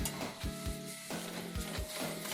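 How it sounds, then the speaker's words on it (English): Steady sizzling of ghee melting in a hot pan with scraping stir strokes at intervals, close and continuous. "while this stuff starts to sizzle a little bit, and our ghee starts to melt"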